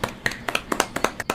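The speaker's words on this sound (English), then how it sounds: "Let's get a round of applause for Hawkeye for not getting last place on this." A small round of applause, a handful of sharp, uneven hand claps spaced out over a second or so, fairly close and light.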